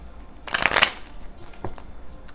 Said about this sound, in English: Let's get a little sideways shuffle.